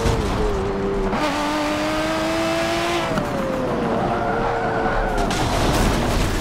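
Rear tires squeal and skid on a racing car in Forza Motorsport 7, a sustained wavering screech over a steady engine drone, shifting pitch several times across the stretch.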